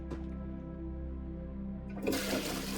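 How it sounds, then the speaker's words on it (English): A toilet flushes nearby in a bathroom that has already flooded, with a steady low rushing hum building into a loud, bright whoosh of water in the last second. "What happens if we flush normally?"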